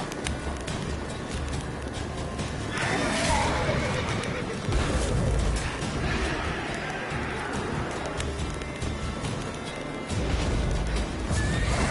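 Horse whinnying in The Witcher 3: Wild Hunt, a fairly loud call rising over a busy game soundtrack and effects, with faint talk underneath.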